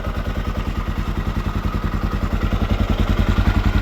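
Rebuilt Honda XR500 single-cylinder motorcycle idling close by, a steady rapid thumping with a slight mechanical clatter, holding an even rhythm throughout with no voices.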